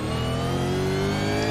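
A race car engine in a racing game at Phillip Island holds a steady, loud mid-pitched drone with layered harmonic whine, close and continuous with no speech.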